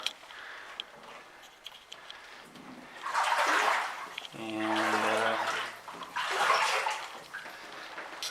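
Heavy sloshing and splashing swell in three long surges as someone wades through deep water in a historic mine tunnel nearby, with quieter dripping between.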